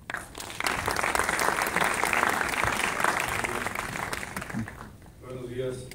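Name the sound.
audience applause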